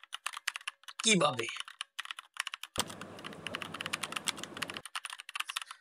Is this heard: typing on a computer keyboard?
yes